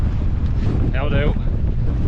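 Strong wind buffets the microphone on an open hillside during a fell walk, a steady loud roar throughout with a brief murmured voice partway through.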